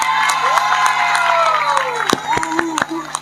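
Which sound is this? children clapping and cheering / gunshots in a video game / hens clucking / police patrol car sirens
children clapping and cheering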